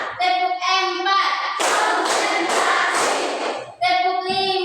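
Children clap together in a classroom during a rhythmic clapping exercise, a burst of several quick claps at close range framed by a child's or teacher's sung or spoken voice before and after.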